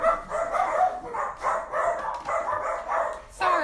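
Dogs bark repeatedly in a steady series of close, fairly loud barks with short gaps, with no talk over them.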